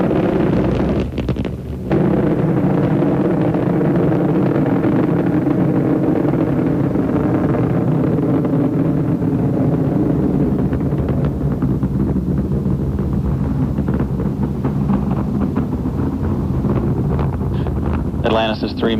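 Space Shuttle Atlantis's three main engines roar through launch toward a rendezvous with Space Station Mir, a loud, continuous low rumble with wind-like buffeting that holds steady for the whole stretch.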